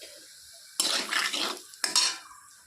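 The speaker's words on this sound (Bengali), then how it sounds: "তেল গরম হয়ে গেছে, দিয়ে দিচ্ছি তেলের মধ্যে একটু নুন, হলুদ।" Salt and turmeric go into hot oil in a pan and are stirred, giving two close, short bursts of sizzling with scraping and clinking from the utensil against the pan, separated by a quiet gap.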